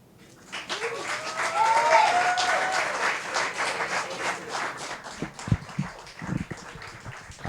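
At a competition finals event, a crowd breaks into applause that swells to a dense roar of clapping, then thins into scattered individual claps and some voices toward the end.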